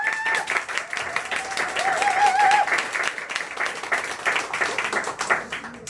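Dense applause from a seated audience at a Korean sales team meeting, steady and moderately loud clapping throughout, with a faint voice briefly audible early on.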